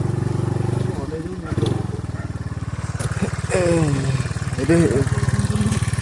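A motorcycle engine runs steadily nearby with a low, even throb throughout, while people talk over it.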